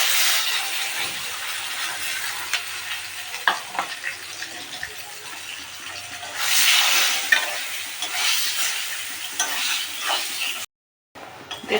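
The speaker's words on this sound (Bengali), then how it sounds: "এবার ওই তেলেই আমি বেগুনগুলো ভেজে নেব।" Eggplant pieces fry in hot oil left from frying beans, a steady close sizzle with occasional stirring and clinks, swelling louder midway before a brief cut near the end.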